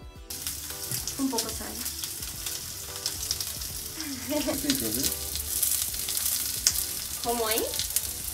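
A veggie burger mixture crackles and sizzles in a hot pan under steady stirring, with a person talking briefly over the frying noise.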